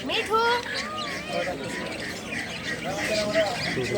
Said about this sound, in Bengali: এই টিয়া পাখিটি কিন্তু কথা বলতে পারে